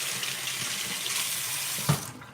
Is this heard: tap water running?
yes